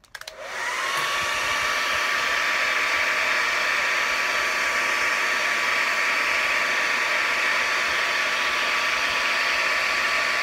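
Heat gun or hair dryer warming a vinyl lure wrap to smooth out wrinkles, a steady, close airy whoosh with a faint whine that switches on and runs unbroken.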